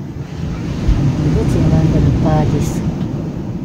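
Steady surf washes in a continuous low roar, with gusts of wind buffeting the microphone and a brief voice breaking through.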